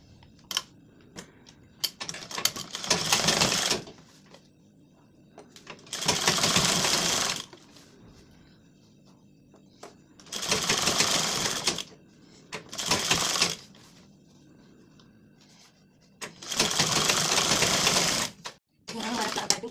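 A sewing machine stitches piping onto a blouse in several loud bursts of fast, rattling stitching, separated by quiet pauses and occasional handling clicks.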